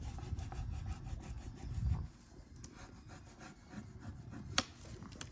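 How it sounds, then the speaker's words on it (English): Paper tabs on a vintage Mickey scrapbook mini album are burnished by hand: a close, dry rubbing and scraping in short strokes, heavier at first, then lighter scratchy passes with one sharp tap near the end. "I'm going to make sure I burnish this in really well"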